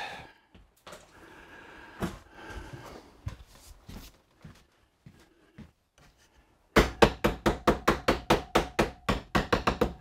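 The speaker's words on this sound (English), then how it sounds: "I'm just going to tap that with a hammer a little bit just to make sure it's good and tight." A hammer tapping a wooden camper kitchen drawer cabinet, scattered light knocks at first, then a rapid run of sharp, evenly spaced blows near the end, close by.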